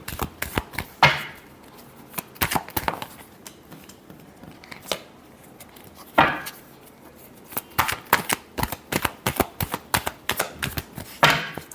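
A deck of tarot cards being shuffled by hand in quick crisp bursts of flicking riffles, with clusters of sharp snaps separated by short pauses. No one speaks.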